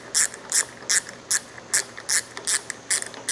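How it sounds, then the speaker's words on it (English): Ratchet wrench tightening the head assembly on a KAKA Industrial W4812 box pan brake: nine crisp metallic ratcheting bursts in an even rhythm, close and clear, with no talk. "Now let's tighten everything back down."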